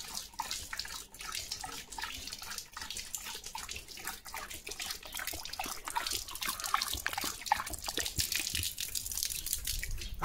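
Water runs steadily from a tap while Leo the dog drinks straight from the stream, a faint, continuous splashing and trickling with no talking.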